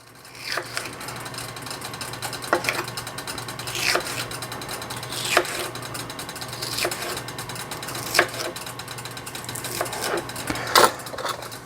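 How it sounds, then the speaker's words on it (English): Knife slicing fresh jalapeño peppers into rounds roughly a quarter inch thick on a cutting board, sharp chopping taps repeating every second or so at close range, with steady faint background hum and no talking. "you will take them and cut them in roughly 1/4 inch slices"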